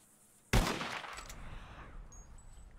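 Gunshot in Red Dead Redemption 2 while hunting birds: a single sharp, loud blast that decays into a long echoing tail, alone with no talk.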